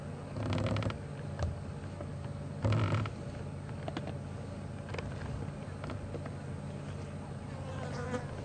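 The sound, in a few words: flies buzzing around meat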